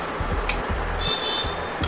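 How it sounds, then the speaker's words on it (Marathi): Curry leaves, a pinch of turmeric and spices sautéing in a hot pan, with a steady sizzle and a few light clinks of a spoon stirring over it. No one speaks. "हे थोडं परतून घेऊ आपण"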